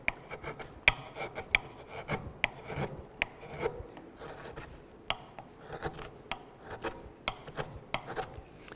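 A chisel cross-carves a wooden shell, making repeated short rasping scrapes in an uneven rhythm, each cut a brief close stroke, with no talking.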